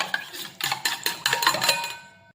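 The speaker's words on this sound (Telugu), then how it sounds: "ఇది ఇలా 2 ఎగ్గులు వేసుకుంటానండి. ఇలా కలుపుతాను." Two eggs are beaten in a bowl with a utensil, a series of close, bright clinking strokes in quick irregular bursts that ring out and fade at the end.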